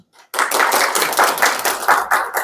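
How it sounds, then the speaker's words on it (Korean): A church congregation clapping together after a brief quiet start, brisk hands striking in a steady, slightly uneven rhythm, close and fairly loud. "박수."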